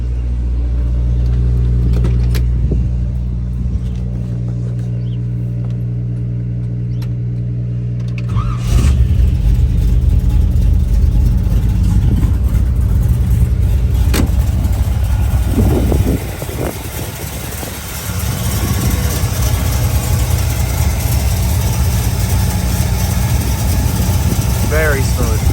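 A 1956 Chevrolet 210 Delray with a four-speed is started up, its engine catching and settling into a loud, steady idle with occasional blips of revving, while someone talks nearby.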